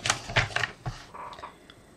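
A sheet of acetate being cut to size, a few sharp, close clicks and snaps from the cutter followed by a softer scraping slide, brief and alone.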